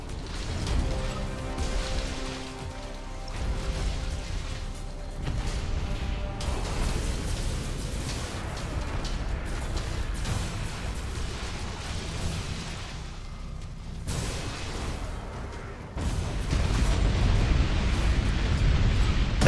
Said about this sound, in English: Tell them to detonate the mines.